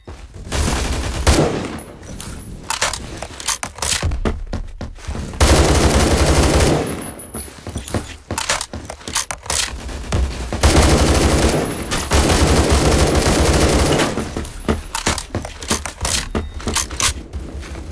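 Automatic rifle fire in the first-person shooter Phantom Forces, several loud rapid bursts spread across the clip with short pauses between, dense and close, no voices over them.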